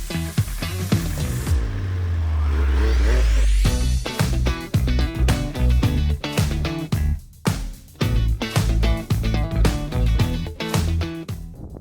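A 2021 MV Agusta Dragster 800 motorcycle engine revs up with a rising whine, then blips repeatedly in short sharp bursts as gears change with a quick shifter, loud and close throughout.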